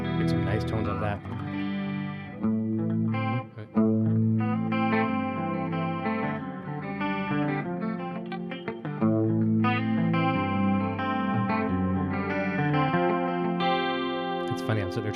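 A Line 6 Variax JTV-89F electric guitar on a semi-acoustic modeled patch runs through a Helix processor with distortion and chorus, playing sustained chords and melodic lines steadily and fairly loud, with no one talking.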